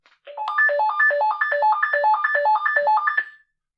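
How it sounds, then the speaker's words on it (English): Radio handset sounding its ringtone: a rapid, stepping electronic melody repeated in a steady pattern for about three seconds, clear and close, with no talk. "This one has a different ringtone."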